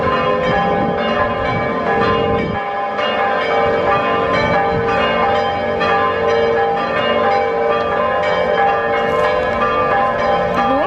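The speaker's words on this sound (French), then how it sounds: "cette musique, celle des cloches de la ville de Rome" Church bells peal across Rome at Piazza del Popolo, a dense, steady clangor of overlapping rings sustained loudly and evenly from start to finish.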